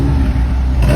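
A Chevrolet Lacetti engine revs loudly and steadily through a new exhaust muffler, a deep sustained droning roar held close up for the whole second.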